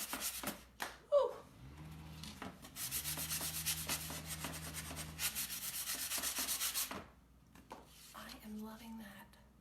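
Rhythmic rasping strokes of a sanding block rubbed over wood, steady and close, running in long bursts with brief pauses between.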